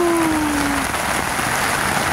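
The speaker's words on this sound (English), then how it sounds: "I'm absolutely loving this rain." Heavy summer rain pouring down steadily outdoors during a heat wave, a loud, dense continuous hiss with no letup, heard alone.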